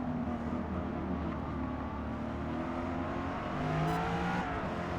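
A 2024 Corvette E-Ray C8 racing among Lamborghinis and supercars on the Nürburgring GP in Forza Motorsport 8, with a sustained engine drone that rises in pitch and holds a steady, close tone.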